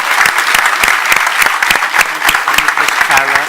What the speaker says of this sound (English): So a big round of applause to the 5 of them.